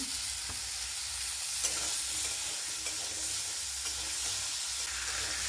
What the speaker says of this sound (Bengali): টমেটো পেঁয়াজ কুচি ভাজা হয়ে গেছে